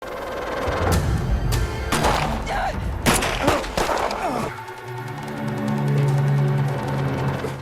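Several sharp gunshots and crashing impacts ring out in a tense film scene in the forest, loud and closely spaced for a few seconds before giving way to a lower droning background.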